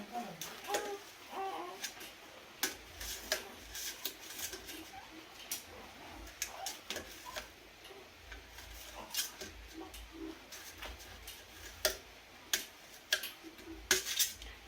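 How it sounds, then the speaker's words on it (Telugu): A knife cuts a fruit into medium round slices, giving a quiet series of sharp ticking taps on a board, irregular and close, with soft background noise between the cuts. "మరీ సన్నగా కాకుండా, మరీ లావుగా కాకుండా మీడియం సైజులోనైతే ఇట్లా రౌండ్గా కట్ చేసుకోండి"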